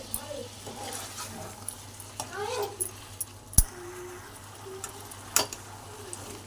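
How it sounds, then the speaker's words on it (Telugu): Chicken stirred with turmeric and salt in a pan, with scraping and clinking of a spoon against the metal, a few sharp knocks and a low sizzle beneath, amid light background noise. "ఇందులోనే పసుపు, ఉప్పు కూడా వేసుకోవాలి. రెండు నిమిషాలు బాగా కలుపుకోవాలి."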